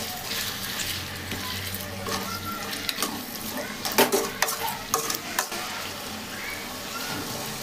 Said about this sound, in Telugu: 4 ముక్కలు ఇంకొక 2 ముక్కలు వేసి ఫ్రై చేస్తున్నా